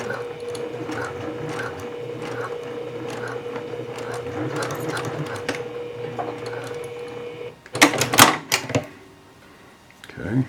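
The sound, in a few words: serger sewing a seam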